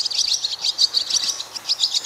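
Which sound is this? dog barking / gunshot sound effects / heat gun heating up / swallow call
swallow call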